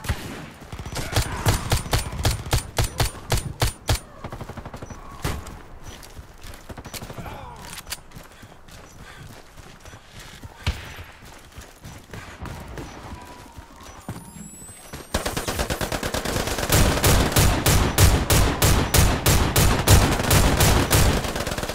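Rapid automatic gunfire from Warface, the online shooter, in long sustained bursts emptying magazines, with quieter scattered shots mid-stretch before a loud continuous stream returns near the end.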